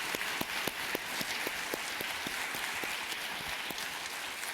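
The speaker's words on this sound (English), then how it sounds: "Please give them a round of applause as well." A crowd applauds at a Capitol Hill Ocean Week event, steady clapping with a few loud individual claps standing out near the front, sustained throughout with no speech.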